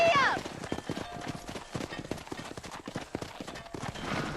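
A horse gallops in Red Dead Redemption with rapid, rhythmic hoof clip-clops running steadily under a voice, the footfalls close and fairly clear throughout.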